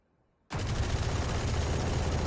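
Heavy machine gun in Valorant opening up on full auto, a dense, unbroken burst of rapid gunfire that starts abruptly after a brief silence and stays loud and steady to the end.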